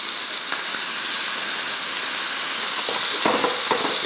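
Chicken pieces fry in oil for Filipino adobo, giving a loud, steady sizzling hiss that never lets up, with a few faint clinks and stirring sounds near the end.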